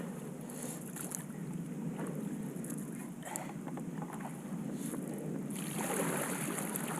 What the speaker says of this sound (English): I might have to do a little backwards paddling here so I don't run out of room